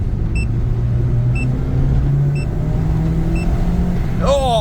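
A project vehicle's engine runs steadily at a loud, rough idle, its low rumble filling the whole stretch, with a short rising rev or whine near the end.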